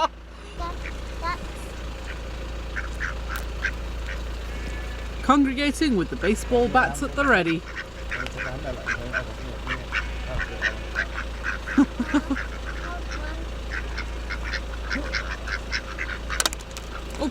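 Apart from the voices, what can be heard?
ducks quacking at a family farm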